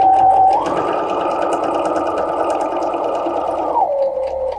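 A sewing machine stitches wiggly lines across fabric, a loud continuous motor whir that speeds up after a moment, holds steady for about three seconds, then slows back down, close and alone.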